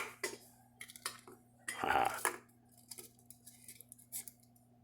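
Metal camping cook set pots clatter and clink as they are handled and nested together, a few scattered knocks and scrapes at close range with one louder burst of rattling near the middle.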